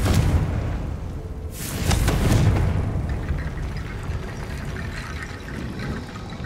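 Confringo blasting spell in Hogwarts Legacy erupting into a booming explosion about a second and a half in, followed by a crackling, rumbling wash of debris that slowly fades.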